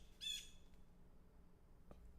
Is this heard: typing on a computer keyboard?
no